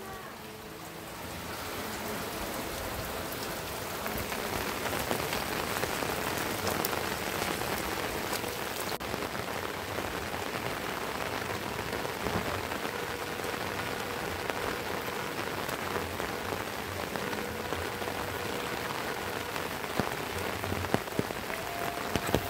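Heavy rain pours down steadily over a hillside village, Kampung Gunung Masigit, a dense continuous hiss of drops drumming on surfaces that stays loud and even throughout with no talk.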